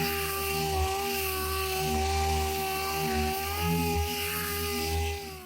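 A power sander with 180 grit paper smoothing SMART Ultra Premium body filler to feather out scratches, a steady whirring hum with a constant tonal whine, close and loud, with slight dips in pitch and no speech.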